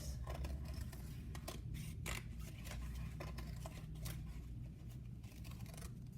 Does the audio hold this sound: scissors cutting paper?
yes